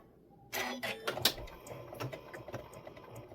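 A sewing machine stitching back and forth for a locking stitch while a cuddle kit is sewn, starting abruptly with quick mechanical clatters and needle taps, close and fairly quiet.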